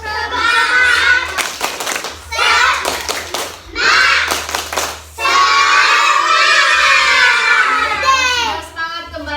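Children in an Indonesian classroom do a rhythmic group clapping chant, with short bursts of sharp claps mixed with loud shouting voices and a teacher's talk in between.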